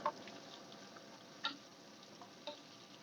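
Chopped onions fry in a pan for a prawn curry, giving a soft, steady sizzle with a few light ticks and pops. No voices are heard over it.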